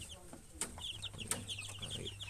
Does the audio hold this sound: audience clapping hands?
no